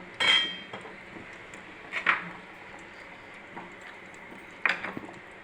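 A metal cooking pan is handled on a stove before oil goes in, giving three sharp, separate clinks spaced a couple of seconds apart against a quiet kitchen background.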